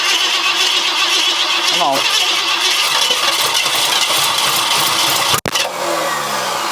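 An abandoned Ford F100 truck engine cranking at full throttle, a continuous loud grinding churn that sputters and briefly cuts out, with someone speaking over it.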